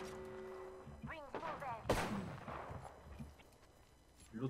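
Gunshots crack from a distance in the game Apex Legends, one sharp louder blast among fainter pops, with brief game sounds and low voices around them.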